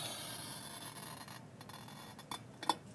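Glass cutter scoring a sheet of float glass in a studio, a continuous fine gritty rasping stroke followed by a few small clicks and taps, close and quiet.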